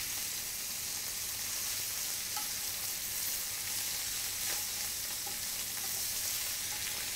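Meat crisping in a pan on a home gas stove gives a steady, even, hissing sizzle with a few small pops, moderately quiet and uninterrupted throughout.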